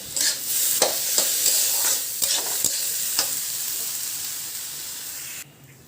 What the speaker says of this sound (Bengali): এবার ভালো করে চালটাকে নাড়াচাড়া করে ভাজবো।